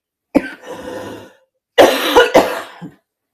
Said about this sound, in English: Try not to cough in the microphone.